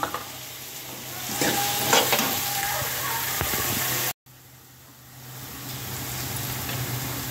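Cumin seeds and green chillies sizzle in hot oil with a dense, steady hiss and some stirring, broken by a brief cut before the frying noise returns and swells again.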